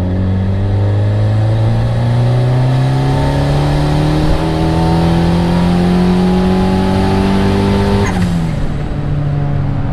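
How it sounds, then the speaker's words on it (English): A turbocharged Honda Accord engine pulls hard in third gear, its loud, steady tone climbing in pitch for about eight seconds before dropping sharply at the shift, heard from inside the car without any talk. "Alright, another third gear pull I'm going to watch."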